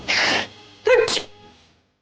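A person gives two close sneezes indoors, the first a sharp burst and the second coming a moment later with a voiced catch before it trails off into quiet.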